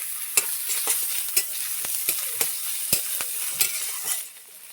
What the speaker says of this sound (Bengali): পেঁয়াজটাকে লাল লাল করে ভেজে নিয়েছি, আদা রসুন বাটা দিয়ে দেবো।